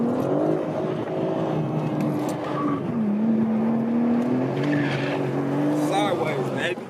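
A 2023 BMW M4 CSL with an 8-speed gearbox slides sideways on a track, its tires squealing loudly and continuously over a steady engine drone from an onboard passenger position.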